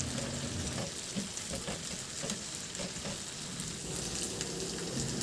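Small cubes of tofu frying in hot oil give a steady, close sizzle with scattered crackles and pops throughout, no voices.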